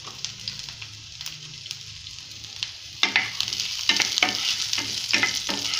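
Thin slices of garlic and ginger fry in plenty of hot oil with a soft, steady sizzle, and louder bursts of crackling and stirring scrapes start partway through.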